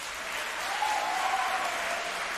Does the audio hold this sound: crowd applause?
yes